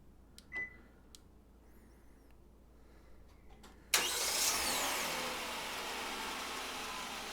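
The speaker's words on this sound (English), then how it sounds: "Let's go ahead and remote start it again." A Hyundai Palisade engine starts by key fob remote start. After a few faint clicks and a quiet stretch, it cranks and catches suddenly, then settles into a steady idle heard from nearby.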